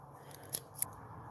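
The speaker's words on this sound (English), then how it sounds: "We'll give this another snip." Two quick snips of scissors cutting, close and crisp, about a quarter second apart over a faint background hum.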